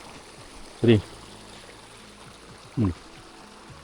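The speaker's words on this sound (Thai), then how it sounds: "น้ำไหลสวยมากเลยอะ" Steady broadband rush of flowing stream water in a forest near Pa Pong Piang, Chiang Mai, runs throughout, with two brief spoken remarks breaking in over it.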